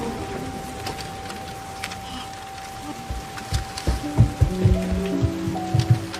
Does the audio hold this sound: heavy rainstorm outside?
yes